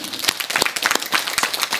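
A lecture audience breaking into applause, with scattered individual claps popping irregularly rather than a full dense ovation, moderately loud and close.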